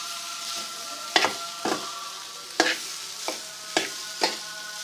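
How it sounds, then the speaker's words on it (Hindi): A spoon stirs boiled potatoes into spiced masala in a pan for samosa filling, seven distinct scraping strokes at irregular intervals over a soft sizzle, close and clear with no talk. "अब हम यहाँ शामिल करते हैं आलू। शामिल कर लिए हैं जी, बहुत अच्छा सा मिक्स करेंगे इसको यहाँ पर।"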